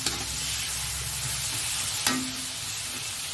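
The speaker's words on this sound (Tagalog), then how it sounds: "Lutuin natin konti yung kamatis" Tomatoes cooking in a pan for an Ilocano dalag fish dish give off a steady, close, hissing sizzle, with one sharp clack of a utensil partway through.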